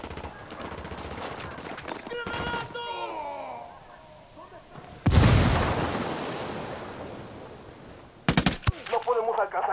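Automatic gunfire in Ghost Recon Wildlands: a rapid burst early on, a heavy blast in the middle and another short sharp burst near the end, with an excited voice between the shots.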